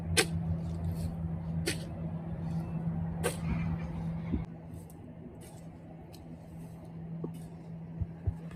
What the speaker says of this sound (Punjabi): ਆ ਕਿਹਦੀ ਗੱਡੀ ਜੀ ਆਈ ਜਾਂਦੀ ਹੈ